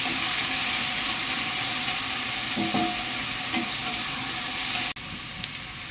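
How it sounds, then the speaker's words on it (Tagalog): Bottle gourd (upo) sautéing in a pan with broth and sardines, a steady loud sizzle and frying hiss with a few stirring clatters, dropping slightly in level near the end. "gisa lang natin ng gusto para mas mabango at malasa ang ating upo"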